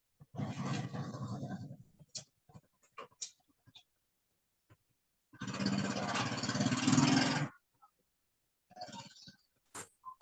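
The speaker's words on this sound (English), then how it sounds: "whoever it is, the motorcycle sounds, please mute yourself" Two long bursts of loud, rough engine roar with a revving motorcycle-like growl, separated by short clicks and gaps, close to the microphone.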